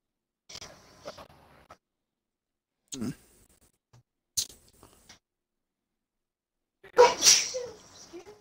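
A sharp sneeze bursts out near the end of short, quiet sounds during an online football game session, preceded by brief clicks and faint voices.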